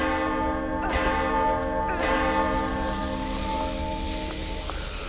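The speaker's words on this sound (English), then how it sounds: "we will be able to ring the bell just like Ada in Resident Evil 4" A heavy bell in the horror video game The Evil Within rings with repeated strikes about a second apart, each leaving a long, sustained metallic hum that slowly fades.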